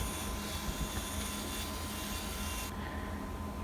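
A polisher works on a 2014 Ford F150 headlight, giving a steady, close whirring drone with a constant motor hum, loud and unbroken, the high part of the noise dropping away near the end.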